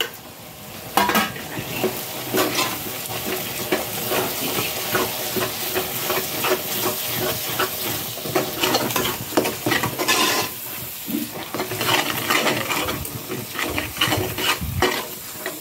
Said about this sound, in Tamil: அந்த பேஸ்ட்டை போட்டு பொரிய வச்சுக்கலாம்